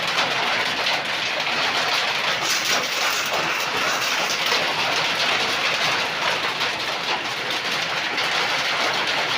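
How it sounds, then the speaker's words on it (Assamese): Large hailstones pounding a tin roof during a violent storm, a dense, loud, unbroken roar of impacts that stays constant throughout. "দেখা পাইছে কি ডাঙৰ ডাঙৰ শিল পৰি আছে, ধমধমে আছে পূৰা টিং পাত গেছ"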